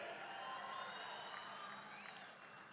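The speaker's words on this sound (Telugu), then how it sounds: "గట్టిగా చప్పట్లు కూడా చెప్పండి" Audience applause at a speech rises as a faint, distant wash of clapping and holds steady for about three seconds before easing slightly toward the end.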